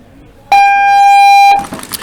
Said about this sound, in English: You can hear the 10-second buzzer there in the background.